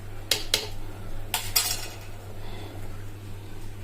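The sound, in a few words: lid placed on cooking pot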